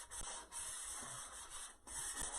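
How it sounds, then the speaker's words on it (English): Steady scratchy rubbing of sandpaper on a thin tin pie pan, continuous light hand-sanding strokes with brief pauses, close up. "the sanding will kind of help the paint adhere better to the tin of the pans"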